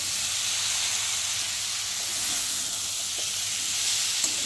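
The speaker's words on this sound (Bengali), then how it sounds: "আর এখন আমি সেদ্ধ করে রাখা মটর ছোলাটাকে দেবো" Boiled peas and chickpeas hit hot frying masala for ghugni, giving a steady, loud sizzle and hiss that holds evenly throughout with no voices.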